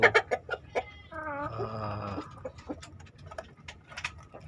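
A Bangkok rooster kept with four hens gives a short, harmonic crow near the mic, framed by sharp, scattered clucks and pecking clicks from the hens before and after.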